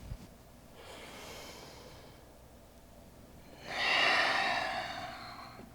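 Slow, deep yoga breaths: a soft, airy inhale followed after a short pause by a fuller, louder exhale through the nose, close by and without talk.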